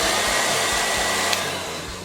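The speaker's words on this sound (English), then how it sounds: "I just use a Remington black hair dryer" A black Remington hair dryer blows hair dry on medium heat, a loud steady close whoosh and motor whine with no pauses.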